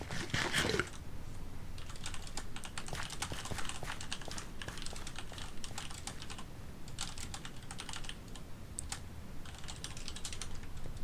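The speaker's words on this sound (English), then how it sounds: "sorry for all the typing" Rapid, steady typing on a mechanical keyboard at a computer during a Minecraft session, clicky keystrokes running close and continuous for the whole stretch with no talking.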